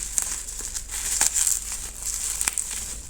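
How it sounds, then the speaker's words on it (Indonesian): Bubble wrap packaging crinkling as a book is unboxed: close, irregular crackles and rustles with sharper crisp snaps, and no one talking. "Nah waktu aku buka ternyata ada bubble wrapnya, jadinya aman banget."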